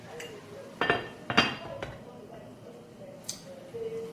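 A metal lid goes onto a pot of egusi soup with vegetables, giving a few sharp clinks and clatters close by over a quiet kitchen background.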